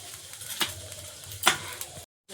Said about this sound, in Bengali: একদম আলতো করে নাড়তে হবে বেগুন